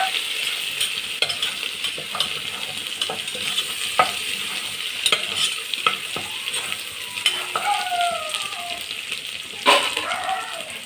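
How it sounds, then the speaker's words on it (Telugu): Onions and ginger fry in a pan for mutton biryani, giving a steady close sizzle with intermittent stirring scrapes and clicks throughout, no talking over it. "ఒక పక్కిది వేగుతూ ఉంటుందండి"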